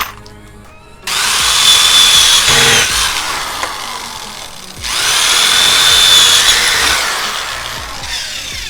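Power drill pre-drilling screw holes in thin reclaimed fence wood, two loud whirring bursts of the motor with a brief pause between, close by and alone.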